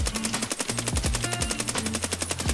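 Rapid full-auto bursts from an AK74U in the video game Escape from Tarkov, loud and close, with short pauses between strings of rounds and no talking.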